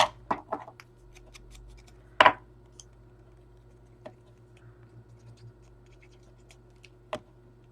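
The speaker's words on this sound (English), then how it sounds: "so let's just cut it." Scissors snipping through fabric strips for a patchwork bellyband, a few crisp close cuts with brief snips and a louder cut near the middle, set against quiet room hum.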